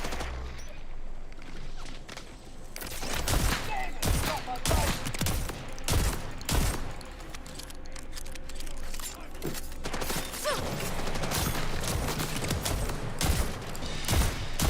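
Shotgun blasts in the Borderlands video game, loud booming shots fired in irregular bursts over a constant game backdrop, with a voice talking faintly at times.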